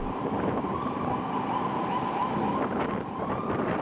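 An ambulance siren wails steadily in traffic, loud and continuous throughout, with a broad wash of road and engine noise beneath it and no voices.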